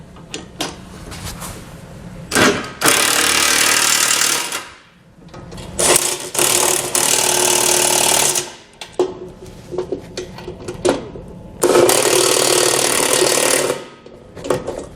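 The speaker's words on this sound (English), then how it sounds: "we can take a 22mm socket and go back and tighten all of that down" Power tool with a 22mm socket tightening the bolts of a Curt trailer hitch receiver on a 2019 Ram 3500: loud, close bursts of rattling impact hammering, several separated by short pauses.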